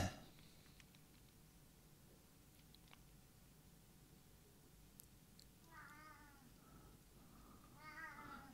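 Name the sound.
cat meowing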